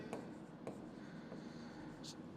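A pen or marker writing out a physics solution on paper or a board, giving soft, intermittent scratching strokes with quiet pauses between them in a calm room.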